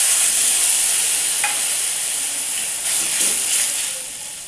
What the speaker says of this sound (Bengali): এই আমচুরের জলটা আমি দিয়ে দেবো।